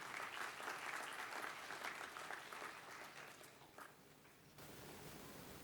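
A large audience applauds graduates at a university degree conferment ceremony, the clapping dense, steady and sustained before thinning slightly toward the end.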